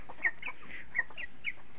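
A chicken sick with coryza clucks in short, soft bursts, three or four brief calls spaced out over quiet background hiss.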